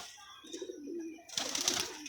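A pet pigeon, the sister of another kept bird, gives soft low coos at close range, followed by a brighter burst of rustling and higher bird calls.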